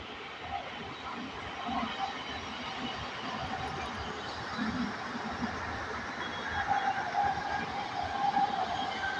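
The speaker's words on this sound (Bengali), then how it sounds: "দেখো ট্রেন যাচ্ছে।" A train passes at a distance behind a town street scene, heard as a steady, continuous rumble and rolling noise lasting throughout, with no talking.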